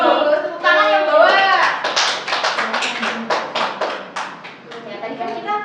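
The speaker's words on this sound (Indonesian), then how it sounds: "Bagus, tepuk tangan yang bawa." A classroom of students breaks into a burst of applause, with scattered hand claps rattling for several seconds right after a teacher finishes speaking.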